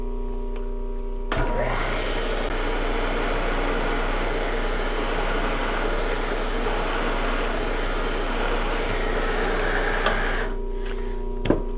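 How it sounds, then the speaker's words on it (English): A drill bores a counterbore hole in a metal block for an alternator bracket on a 1946 Willys Jeep CJ2A, spinning up with a steady, loud whirring grind for about nine seconds before stopping. "I'm probably spinning the drill a little bit too fast"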